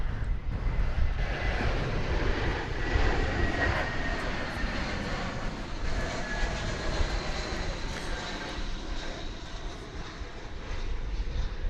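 An American Airlines Airbus A320 arriving at DFW from Des Moines, Iowa, gives off a steady broadband engine roar that stays loud and close throughout, with no voices over it.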